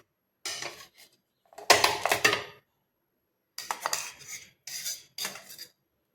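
A metal fork pokes at boiled eggs in a metal pot, making sharp, close metallic clinks and scrapes in several short clusters separated by silence.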